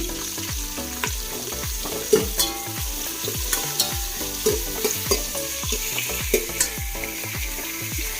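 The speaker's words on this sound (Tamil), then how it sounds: "இந்த ஆனியன் வந்து நல்லா கொஞ்சம் ஃப்ரை ஆகணும்" Sliced onions frying in oil in a pan for chicken biryani, with a steady loud sizzle and repeated scraping stirs of a spoon against the pan, close and without talk.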